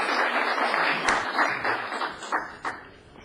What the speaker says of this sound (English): Let's give Jeannie a round of applause for her good work.